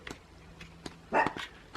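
A dog gives a few soft, scattered woofs and yips indoors, the loudest bark near the end, moderately close and otherwise quiet.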